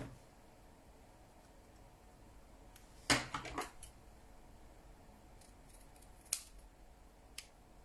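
A few crisp scissor snips cutting paper while making a folded greeting card, with one quick double cut, then two isolated later snips, close and fairly loud against a quiet room.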